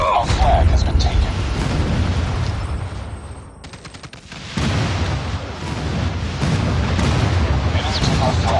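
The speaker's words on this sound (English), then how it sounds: "Enemy airstrike incoming" Airstrike explosions in Call of Duty Mobile multiplayer, with heavy booms and rumbling blasts mixed with gunfire, loud and nearly continuous, while game voices call out over the chaos.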